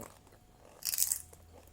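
A single crisp, crunchy bite into a Lay's potato chip dipped in Nutella, close up, with a short burst of crunching in an otherwise quiet moment.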